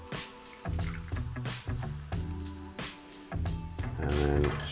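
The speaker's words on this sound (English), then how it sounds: "And then finish that with some sparkling water." Sparkling water pours into a Tom Collins cocktail in a highball glass over ice, a steady close trickle with little drips and fizzy splashes throughout.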